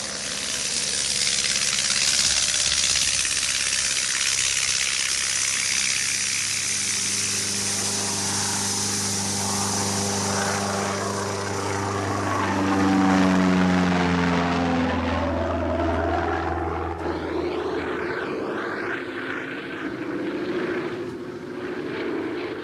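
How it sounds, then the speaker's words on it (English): A small propeller plane used for radio tracking of polar bears takes off and flies, its engine drone loud and steady with a shifting pitch as it climbs and passes. "As soon as it recovers, Lentfer's plane takes off to begin radio tracking from above"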